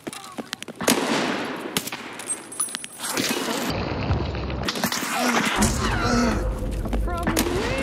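Gunfire in the first-person shooter Escape from Tarkov: rapid bursts and scattered single shots, some sharp and close, others duller and distant, crackling on and off with excited talk underneath.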